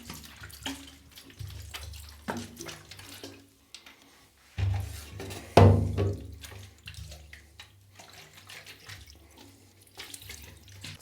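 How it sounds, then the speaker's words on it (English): Liquid splashes and runs across a flood-damaged Commodore 64C circuit board as it is washed with alcohol, a close, uneven pouring with a louder gush midway, heard on its own. "Now I'm just going to take some alcohol and thoroughly wash it and then let it dry."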